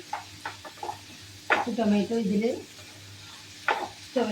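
Tomatoes frying in a pan for prawn biryani, a soft sizzle under a spoon stirring and scraping in a few short strokes, with a person talking close by.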